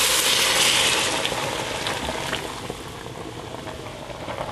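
Liquid poured into a pot of caramelised onions with the heat turned off, a steady watery gush and sizzle that is loudest at first and then eases to a softer, continuous bubbling for several seconds.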